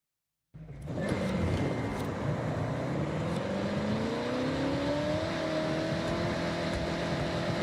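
Car engine in the video game Star Wrath starts abruptly and revs steadily upward toward about 6,200 RPM, a loud continuous droning whine that climbs in pitch, with no talking.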